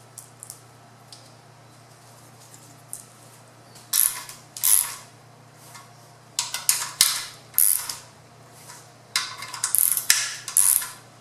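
A ratchet clicks in short bursts while a Dodge Viper engine is bolted together, loud and close, the bursts coming after a quiet start and speeding up toward the end.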